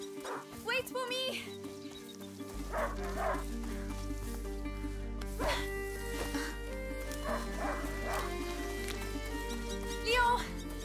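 A hunting dog in A Plague Tale: Innocence yips, barks and whimpers in short repeated bursts over a steady low game-music drone, with a voice speaking at times.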